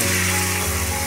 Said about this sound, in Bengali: এবার আলুটাকে সুন্দর করে কষানো মশলার মধ্যে কষিয়ে নেবো একসঙ্গে।